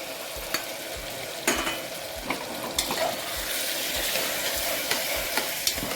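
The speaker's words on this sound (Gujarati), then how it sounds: "અને હવે એમાં આપણે સૌ પ્રથમ આ જે તુવેરના દાણા છે એ એડ કરી દઈશું તેલમાં" Pigeon pea beans fry in hot oil, sizzling steadily and close while a utensil stirs them, scraping and clicking against the pan every second or so, with no talking.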